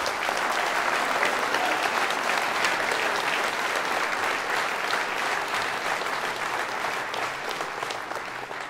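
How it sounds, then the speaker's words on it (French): Sustained audience applause fills a campaign rally hall, a steady dense wash of many hands clapping at full strength throughout, easing only slightly at the very end. "Je vous demande d'applaudir Sophie Ashkenaf."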